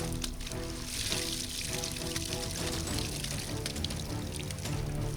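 Water gushes steadily from a pipe into a paddy field being readied for rice planting, a constant close splashing pour under background noise.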